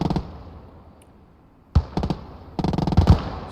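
Gunfire in the WWII strategy game Gates of Hell: Ostfront, heard as a short burst of sharp shots, a pause, then a denser rattling volley of close cracks and thumps.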